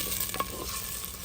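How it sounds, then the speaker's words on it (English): Onions sauté in a clay pot while being stirred, a brief, fairly quiet steady sizzle with a faint scrape in the middle. "Give it a stir"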